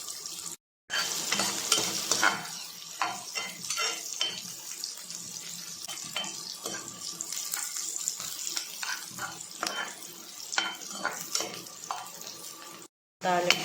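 Tempering for amaranth (thotakura) dal frying in hot oil until light golden, a continuous sizzle with frequent scraping stirs of a spoon against the pan, close and steady.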